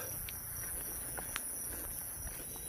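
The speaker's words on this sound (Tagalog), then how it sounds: "Ang daming kulisap." Many insects chirp at night around 10 pm beside a road through onion farmland in Quezon, a faint, continuous high-pitched drone with a few soft ticks and rustles over a quiet background.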